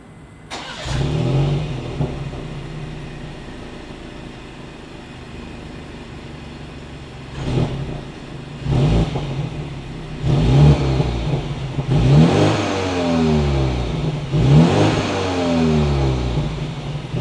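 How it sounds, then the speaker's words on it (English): A 2022 BMW X4 M Sport's exhaust idles after a start-up burst, then snarls through several sharp revs in a row, each rising and falling quickly, loud and close with no talking. "As always, here is that exhaust clip."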